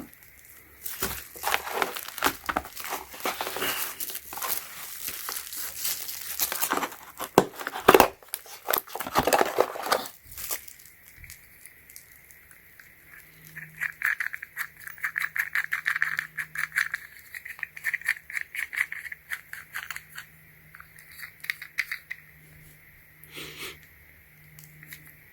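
Cutting 3/4 inch non-metallic electrical conduit for EV wiring: a dense burst of crinkly, rattling crunching for about ten seconds, then a quieter stretch with a steady hum and softer scraping.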